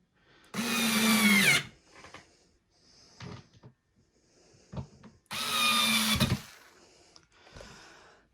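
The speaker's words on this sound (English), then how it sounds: "drill them down." A power drill drives screws into the fixings of an IKEA BRIMNES two-door wardrobe in two loud, whirring bursts about a second long each, separated by quieter clicks and the knocks of handling parts.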